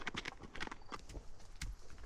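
Tucker the horse walks uphill on a trail, hooves clopping in a quiet, irregular walking rhythm, close by with no talk.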